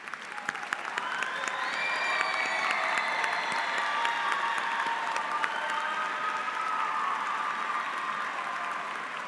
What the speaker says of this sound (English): we offer a round of applause for your service to our students as well.